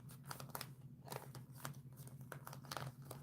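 Tarot cards are shuffled in quick, soft papery riffles and slaps, quiet and close, repeating in irregular bursts.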